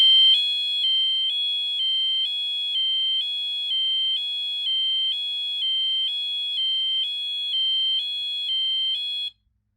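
A Wheelock MT fire alarm horn sounds a steady high-low tone, alternating two pitches in an even rhythm, loud and alone, before cutting off abruptly near the end.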